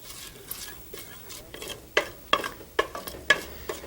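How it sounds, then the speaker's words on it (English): Two bay leaves with asafoetida sautéing in a pot: a soft sizzle beneath a string of sharp clinks and scrapes of a utensil against the pot, spaced roughly every half second. "Got 2 bay leaves there. Saute those for a few seconds."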